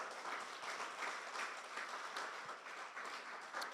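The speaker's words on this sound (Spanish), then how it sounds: "Dale un aplauso al Rey." A church congregation gives sustained applause during a worship service, a continuous, even roar of many hands clapping with no pauses, fairly distant and steady throughout.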